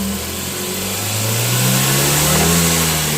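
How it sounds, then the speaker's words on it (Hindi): Tata Nano engine, fitted with new spark plugs, revving as the accelerator is pressed: a loud, close mechanical engine note that rises steadily in pitch and volume, with no speech. "अब मैंने इसके एक्सीलरेटर को प्रेस करता हूं मैं।"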